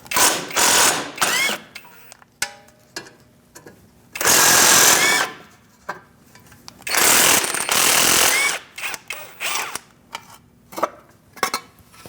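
Tool driving an E18 socket on the front dust shield screws of a 2008-2014 Mercedes-Benz C300: loud close bursts of rattling whir, two lasting about a second, the rest short and scattered, with clicks and quiet gaps between.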